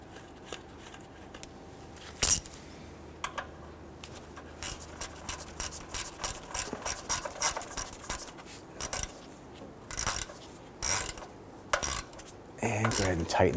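Metal bolt clinks and ratcheting clicks as a bolt is pushed through ground straps at the fuel tank filler neck of a 2007-2014 Cadillac Escalade, with a sharp clank early and scattered close mechanical taps and rattles throughout, no talking.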